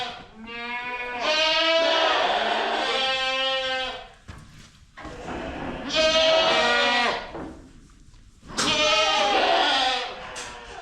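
Loud, drawn-out bleating from pregnant goats close by on a farm, three separate calls with short pauses between them.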